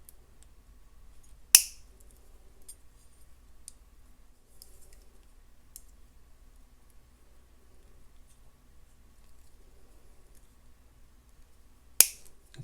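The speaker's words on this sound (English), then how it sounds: "you're going to snip off the excess beading wire just like before." Two sharp, isolated snips of small cutters trimming excess beading wire on a multi-strand necklace, about ten seconds apart, close and crisp against near silence.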